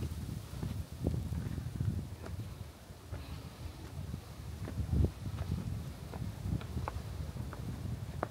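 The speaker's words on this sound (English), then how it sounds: "It's pretty windy up here." Wind buffets the microphone on top of Oudong Mountain in Cambodia, a faint, steady low rumble with irregular gusts and soft thumps, with no voices.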